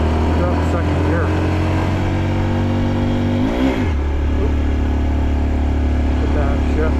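A Honda Dax mini motorcycle pulls uphill in low gear with jerky shifting, its engine droning loud and close throughout, with a brief pitch dip near the middle as the gear changes.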